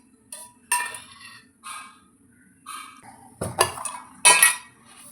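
A metal cooking pan is set down on a home stove with several sharp clanks and scrapes of metal on metal, coming in irregular bursts at close range with quiet gaps between them and no talking.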